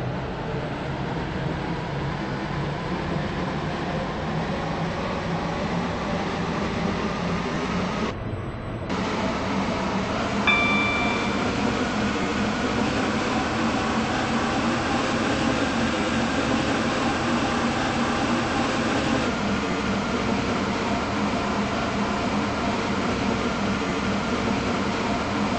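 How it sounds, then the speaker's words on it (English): A video game train in Stepford County Railway rolls along approaching St. Helens Bridge station, with a steady rumbling hum and rail noise, a brief dip partway through, then continuing steadily and loud throughout. "This train is now approaching St. Helens Bridge."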